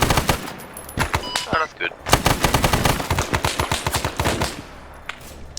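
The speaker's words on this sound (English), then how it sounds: "There's a machine gun outside." Rapid bursts of machine gun fire in the military shooter Arma 3, loud and close, with repeated rattling volleys through most of the stretch and a brief spoken remark over the shooting.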